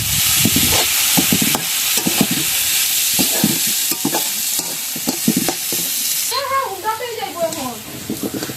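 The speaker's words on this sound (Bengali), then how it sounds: "এই যে হয়ে গেছে আমার আলু পাহাড়ি ফুল দিয়ে আলু ভাজি।" Potatoes with hill flowers are stir-fried in a pan, rhythmic scraping strokes over a steady sizzle, with a person talking over the last couple of seconds.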